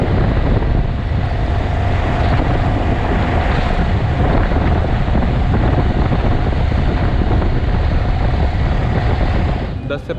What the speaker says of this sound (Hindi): यहाँ का ऑटो राइड पे ऐसे बैठे बैठे जा रहे हैं